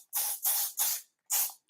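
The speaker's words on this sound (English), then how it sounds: "I like using the Infineon strong hold hairspray." Strong hold hairspray sprays in four short hissing bursts, three in quick succession and one after a brief pause, close and crisp with no talking.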